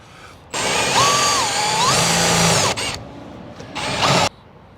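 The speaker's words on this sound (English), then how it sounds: "the hole saw will be guided by the hole you just drilled" A power drill driving a hole saw through a DuraPlate trailer wall, loud close whining bursts with pitch dips as the saw bites, a brief stop, then a shorter final burst.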